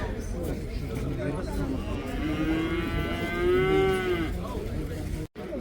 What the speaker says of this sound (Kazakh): Буаз сиыр.